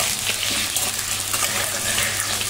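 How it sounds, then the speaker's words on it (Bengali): Potatoes fry in hot oil in a wok over a gas flame turned down low, giving a close, continuous crackling sizzle with a bubbly texture and no voices. "তো এই যে আলু নদীতে ঝপাং হলো, তেল ছিটকাইলো, এবার আলু ভাজা হোক"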